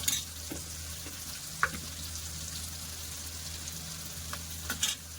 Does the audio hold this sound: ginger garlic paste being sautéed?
yes